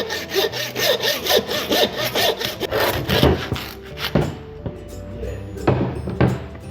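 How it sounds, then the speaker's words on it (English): A bandsaw cuts through a leg of lamb, a continuous rasping saw sound with rhythmic pulses and a few thunks as the blade passes through meat and bone, loud and close. "Then just with your bandsaw, it's just a matter of just cutting through."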